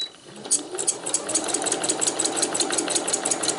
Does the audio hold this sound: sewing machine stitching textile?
yes